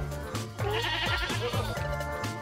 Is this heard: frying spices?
no